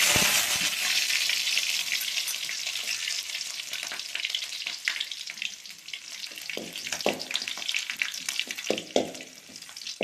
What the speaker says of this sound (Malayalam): നമുക്കിവിടെ വെളുത്തുള്ളി ഇട്ട് കൊടുക്കാം.